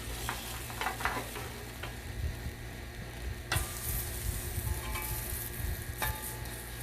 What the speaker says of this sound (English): And here's our panini press.